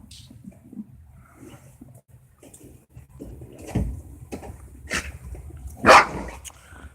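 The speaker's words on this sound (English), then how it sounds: "You've seen the dogs playing" American bully dogs play in a winter yard, with scuffling and movement, then several loud, close barks in the second half, each one separate.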